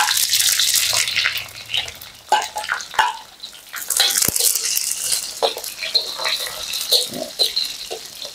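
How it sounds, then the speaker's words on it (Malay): Garlic and onion sautéing in hot oil for ayam masak cili kering, a bright crackling sizzle with intermittent spatula scrapes and clinks against the pan, close and without speech. "Kita tumis sehingga bawang putih kita ni kekuningan ya"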